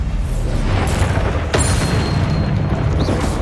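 Bombarda spell blast from Hogwarts Legacy: a loud booming explosion followed by rumbling debris, with a sharp crack near the middle, close and dense, no voices.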